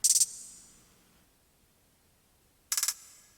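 Two short bursts of rapid trap hi-hat rolls from a Genesis Kit 3 second hats track, bright metallic ticks with a short decay between them, with no other sound.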